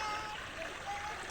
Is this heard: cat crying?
no